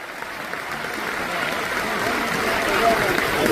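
An audience at an RCM leadership gathering breaks into steady applause that builds slightly in loudness, a continuous wash of clapping heard alone without distinct voices.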